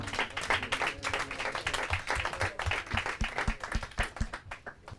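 A studio audience at a Portuguese quiz show claps after a correct answer, a brisk close round of hand claps with some sharper individual slaps standing out, fading toward the end.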